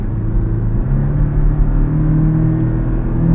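A 2019 Porsche Cayman 718 four-cylinder engine hums from inside the car while driving, a steady low rumble and drone with slight swells, no one speaking.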